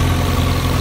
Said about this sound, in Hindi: ये देखो ट्रैक्टर की पावर आज दिखी जाएगी भाई, देख लो ये जा रहा भाई ट्रैक्टर।